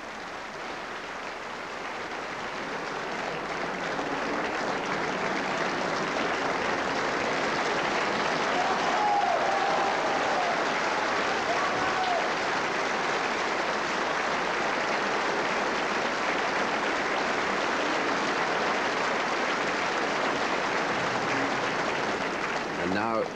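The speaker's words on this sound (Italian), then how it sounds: "come before the curtain to acknowledge the very enthusiastic applause here in Manchester." A theatre audience at the Palace Theatre, Manchester, gives enthusiastic applause for the cast of Verdi's Otello at the curtain call, a dense sustained wash of clapping that swells and holds steady throughout.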